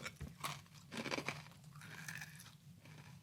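Someone eating dry whole-grain cereal, with bursts of crunching and chewing close up, a few louder crunches and quieter bites over a low background hum.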